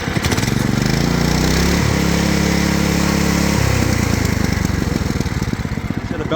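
A racing lawn mower engine idles in neutral close by, a loud, steady, rough mechanical drone with a slight rise and fall in pitch.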